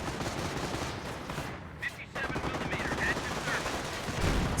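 Battle in Company of Heroes with Rangers firing bazookas among bursts of machine-gun and rifle fire, a busy, continuous clatter of shots and blasts at moderate level with a brief lull midway.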